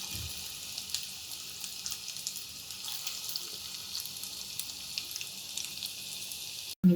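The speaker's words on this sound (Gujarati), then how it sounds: "થોડા એડ કરી અને આપણે એને ફ્રાય કરીશું" Potato balls (aloo poppers) frying in hot oil, a steady soft sizzle and crackle, close and continuous, with no talking.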